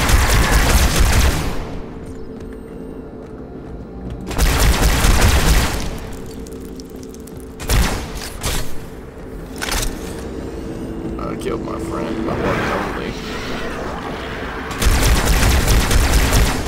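Gunfire in the Halo 2 Anniversary video game, loud, dense bursts of shooting and booms that come and go in waves, with quieter stretches of single shots between them.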